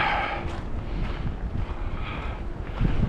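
Wind blows through the woods and rumbles across the microphone in a steady, moderate, low roar with slight gusts, and no one speaks.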